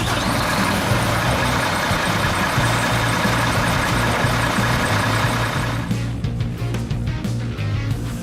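A recovery truck's diesel engine runs with a steady, low rumble, close and fairly loud. Around the six-second mark it settles into a rougher, lumpier idle.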